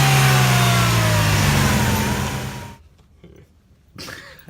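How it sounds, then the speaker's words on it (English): A 2000 Mercedes SLK230 supercharged engine revs up loudly with a whining tone, then drops back sharply to a quiet idle before a brief second rev. "You can even hear a little bit of that supercharger whine whenever you rev"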